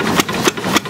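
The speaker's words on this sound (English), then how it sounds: "he's got it on real low idle" A 1920s Buda railcar speeder engine idles very low, producing a steady, close chugging with a soft pulse about three times a second and no voices.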